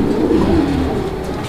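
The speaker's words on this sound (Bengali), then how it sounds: "কবুতর লাফা ঝাপা করতেছে বিকজ কবুতরগুলো সুস্থ সবল এন্ড অ্যাক্টিভ" Pigeons coo in a low, throaty murmur at close range, with soft rustling as the healthy, active birds hop and flutter about in a pet pigeon market pen.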